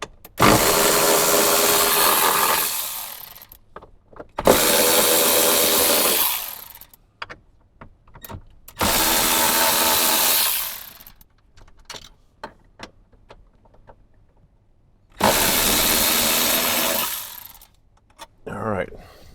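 Power tool driving out 10mm bolts from the dash of a 2024 Toyota Tacoma, heard as four loud bursts of a couple of seconds each with quiet handling noises between them.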